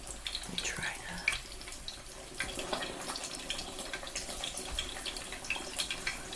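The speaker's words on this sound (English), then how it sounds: "You hear that release of water?" Pork schnitzel fries in a pan, a faint, steady sizzle and crackle of water releasing from the meat, with a quiet voice speaking over it.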